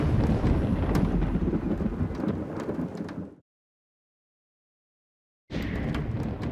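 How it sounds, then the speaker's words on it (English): Powerful thunderstorm with lightning and high winds: heavy rumbling thunder and rain roar loud and dense for several seconds, cut to sudden silence, then the storm noise returns just as strong. "A powerful thunderstorm is rolling through the area, and the lightning and high winds leave us no other option but to shut down."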